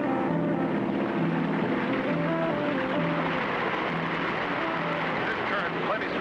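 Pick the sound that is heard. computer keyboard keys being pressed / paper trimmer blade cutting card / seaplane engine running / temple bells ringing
seaplane engine running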